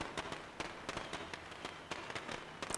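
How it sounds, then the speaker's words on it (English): Firecrackers going off in the video game State of Decay, a rapid irregular string of small sharp pops and crackles at moderate distance, fairly quiet and continuous. "not all the zombies stopped chasing me because they heard firecracker noises"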